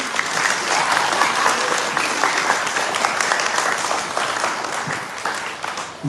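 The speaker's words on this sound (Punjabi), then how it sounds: "ਚੰਗੀ ਤਰ੍ਹਾਂ ਨਾਲ ਤਾੜੀਆਂ ਮਾਰੋ ਬਈ" Sustained applause from an audience at a Manukhta Di Sewa Society gathering in Ludhiana, steady dense clapping filling the whole stretch at a loud, even level with no talk over it.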